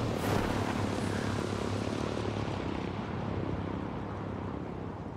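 An aircraft propeller engine drones in a video game, a steady loud whirring roar that holds from start to finish and eases slightly toward the end, with no voices.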